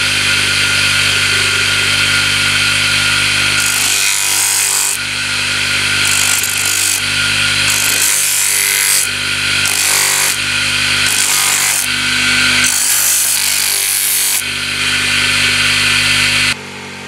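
A rusty blade is ground on a powered sharpener, with a continuous loud motor drone and harsh grinding that surges and drops in repeated strokes.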